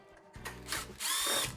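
A cordless power drill whines in short bursts, backing a quarter-inch screw out of a KitchenAid oven's control board panel, close and loud with rising and falling motor pitch.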